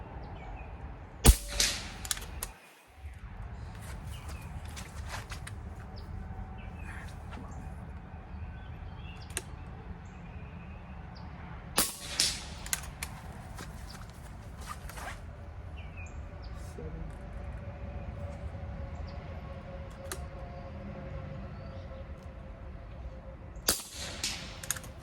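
Several sharp rifle shots at NRL22 and PRS shooting practice ring out across a quiet outdoor range at irregular intervals, some in quick pairs, with faint birdsong in the background.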